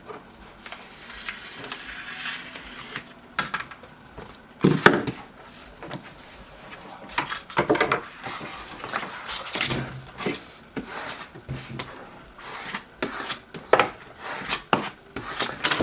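Excess heat transfer vinyl is trimmed, likely with scissors or a blade, giving close, intermittent scraping and snipping sounds with handling noise over a quiet background.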